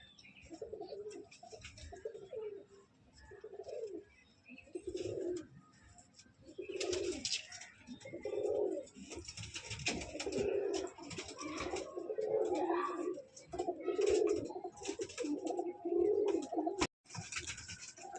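Pigeons coo in repeated low, throaty phrases, some close and some further off. Faint music and background activity continue underneath.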